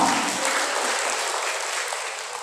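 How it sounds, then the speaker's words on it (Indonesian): Seminar audience of teachers applauding, a steady, dense round of clapping that fills the room and holds evenly from start to finish without talk over it. "Tepuk tangan untuk guru semua."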